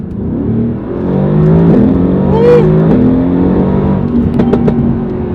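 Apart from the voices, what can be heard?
sports car engine accelerating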